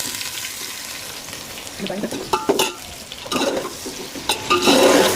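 Sliced onion fries with masala in a pot for Hyderabadi bagara rice, sizzling close and steadily while a ladle scrapes and stirs in bursts that grow louder toward the end.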